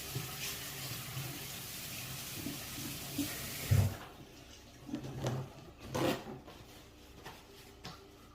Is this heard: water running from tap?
yes